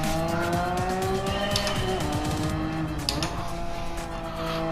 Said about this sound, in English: This flat six partnered with this racing muffler is putting out a beautiful symphony.